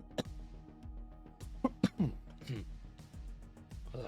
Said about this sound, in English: As I cough up a lung.